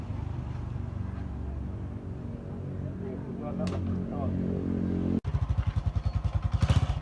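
A modified motorcycle with a sidecar cart idles and revs nearby while someone talks, then its engine suddenly bursts into a loud, rapid pulsing putter as it pulls off on a test drive.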